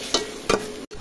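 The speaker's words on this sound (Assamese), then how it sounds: "ভালকৈ মিক্স কৰি ল'ম" Pav bhaji masala is stirred in a hot pan, heard as two quick close scraping swishes over a constant sizzle, loud and brief, with no one talking.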